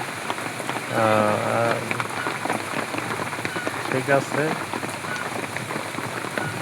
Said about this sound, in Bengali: বৃষ্টি কমছে, মানে থামে নাই, একেবারে বৃষ্টি কমছে।